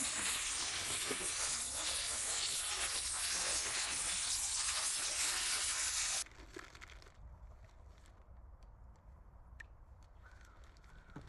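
Organic soil bag cut open and emptied into a garden bed: a loud, steady rush of crinkling plastic and pouring, hissing soil for about six seconds, then quieter scattered rustling as the soil is spread.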